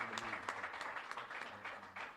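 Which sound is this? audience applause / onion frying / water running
audience applause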